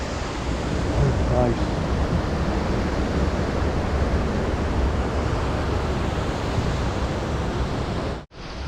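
Broad steady rush of a river flowing beneath a bridge on a Nepal trek, loud and close throughout, with a brief spoken word early and a sudden dropout near the end.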